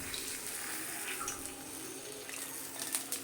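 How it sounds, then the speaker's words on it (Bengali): Water trickles and pours steadily onto fried lentil dumplings (bori) in a kitchen vessel, a soft, close, continuous splashing flow that stays fairly quiet throughout, with no talk. "এবার আমি বড়ির মধ্যে সামান্য একটু জল দিয়ে রেখে দেবো যাতে বড়িতে জলটা টেনে নেয়"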